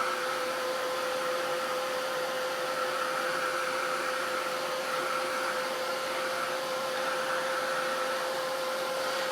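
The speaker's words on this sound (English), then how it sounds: "Let me see if I've got my gun on here. Turn it on." A heat gun blows steadily over stamped craft ink to dry it, giving a constant whooshing airflow with a steady whine, loud and close throughout with no voices.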